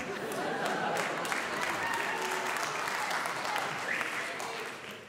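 Sustained applause from a stand-up comedy audience, a dense steady wash of many hands clapping at an even level for about five seconds before easing slightly at the end, with no voices on top.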